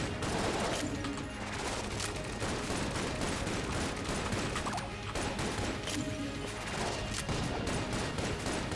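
Rapid, dense gunfire from the video game Enter the Gungeon, with bursts of shots and crashing impacts forming a constant loud barrage that barely lets up from start to finish.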